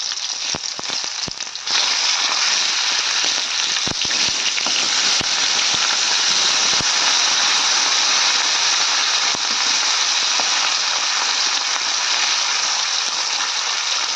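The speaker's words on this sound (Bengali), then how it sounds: "এক সাইড উল্টে দিলাম। এবার আরও কিছুক্ষণ ভেজে নেব।" Loud, continuous sizzling of large katla fish pieces frying in oil after being flipped, with a few sharp clicks and pops near the start and then a steady hiss.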